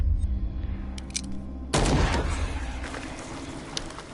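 A gunshot in the video game Call of Cthulhu: a sudden loud blast after a low ambient hum, then a decaying, noisy tail.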